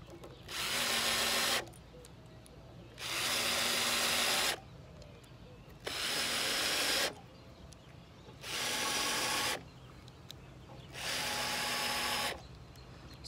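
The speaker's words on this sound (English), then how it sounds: "let's get six screws in this other end. And then we'll flip it over and get them fastened to the battens." Power drill driving screws into a wooden shutter and its battens, five separate whirring bursts of about a second and a half each, with quiet pauses between them.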